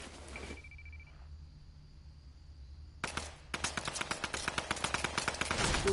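Gunfire in the Fortnite video game: a single shot, a lull with a faint tone, then a burst of shots followed by rapid rhythmic automatic fire building to a loud close.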